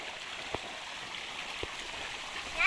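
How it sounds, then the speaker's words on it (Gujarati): Steady, soft rush of water flowing along a channel, faint and constant, with two brief clicks and a small splash near the end. "અહીંયા પાણી જાય છે"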